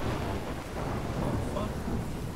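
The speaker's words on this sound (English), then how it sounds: "I've never seen a storm like this in Oregon." Storm ambience from the video game Life is Strange, set in Oregon: a steady, dense wash of rain with low rolling thunder running continuously at moderate level, no distinct separate claps.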